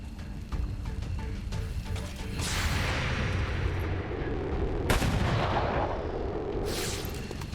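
Incoming gunfire and artillery from XCOM 2 during an Advent blacksite mission, a steady rumbling barrage with sharp bursts near 2.5 and 5 seconds, loud and dense with no talk.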